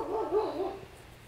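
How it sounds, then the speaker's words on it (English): Dogs barking in a steady, muffled wash of noise, sounding somewhat distant and blurred together rather than as clear separate barks, with no talking over them. "Hopefully you can hear me over those horrible dogs."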